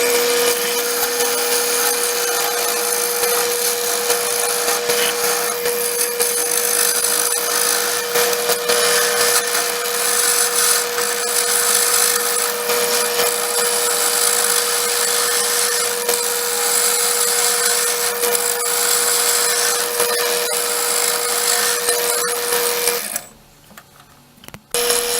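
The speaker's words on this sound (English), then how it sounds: "We turn the spindle around in the lathe, and we're cutting the tenon in the top end of it, 1/2 inch." A wood lathe turns a spindle while a tool cuts a half-inch tenon on its top end. It gives a loud, steady whirring scrape with a constant tone, runs continuously for over twenty seconds, then cuts off abruptly.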